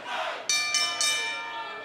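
A wrestling crowd at center stage at a Championship Wrestling event, a noisy, roaring cheer from the audience, with bright bell-like rings cutting in three times over the din.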